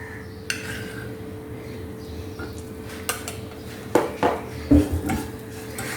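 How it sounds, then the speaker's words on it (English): A metal spoon scrapes and clinks against a pan while wheat flour modak mixture is stirred with ghee, giving intermittent close knocks and scrapes over a low steady background. "And just give another round of mix for about 2 minutes."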